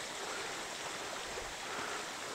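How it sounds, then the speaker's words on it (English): A river flows near Russell Lake in Quetico Park at early morning, a soft, steady broadband rush of water heard faintly and continuously with no other sounds. "I was looking up the river to Russell Lake."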